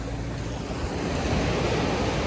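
Ocean waves wash continuously onto the shore at Vizag beach in a steady surf roar, with wind buffeting the microphone.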